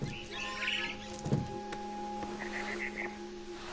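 In the video game What Remains of Edith Finch, a barn swallow chirps outside a window, a few short bright calls over a quiet game backdrop while a voice speaks.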